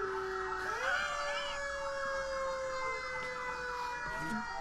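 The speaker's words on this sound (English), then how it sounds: "I didn't mess up the sirens. The sirens are on!" Emergency sirens play steadily and fairly close, a continuous wailing tone that rises in pitch and then holds, layered with higher harmonic tones, with no talking over it.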